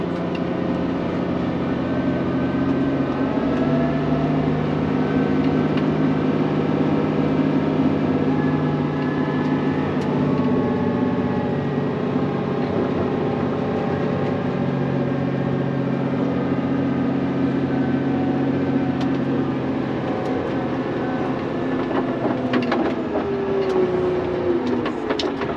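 A brand new 70,000-pound Hyundai HL980A wheel loader runs close by, its engine holding a steady, even droning hum with no voices over it.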